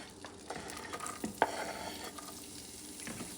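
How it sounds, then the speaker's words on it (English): Butter melting in a preheated pot on medium-low heat, a quiet soft sizzle with a few stirring scrapes and a brief clink of the utensil against the metal. "Let that butter melt"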